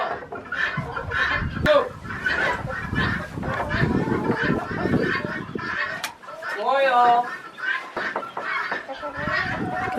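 Chickens cluck and squawk close by in a busy barn, with a few short spoken words mixed in.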